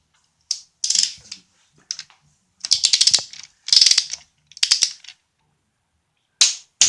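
A ratchet wrench torquing bolts in sequence on a Titan 5.6 engine during a rebuild: repeated bursts of sharp clicking, several separate runs with pauses between them, close and loud.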